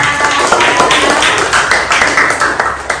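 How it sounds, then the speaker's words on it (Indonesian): Classmates clap for a student named Dinda after her group presentation in a classroom, a brisk patter of hands that stays fairly even and close throughout. "Tepuk tangan buat Dinda"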